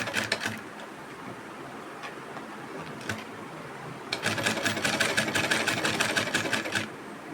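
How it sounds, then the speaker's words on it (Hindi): A sewing machine double-stitches the shoulder seam of a blouse, with short bursts of rapid mechanical clatter, a pause, then a longer steady run of stitching, close and fairly loud. "गले टू गला जोड़ के और बिल्कुल एक बराबर करके और 1 इंच या आधे इंच का छोड़ के कपड़ा सिलना और डबल सिलाई लगानी है।"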